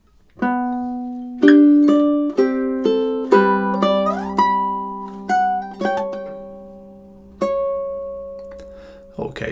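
Measures 13 and 14 of Tárrega's classical piece Adelita are picked on a ukulele, with bright, close plucked notes and a few bent or sliding tones over a held bass, ending on a sustained ringing note.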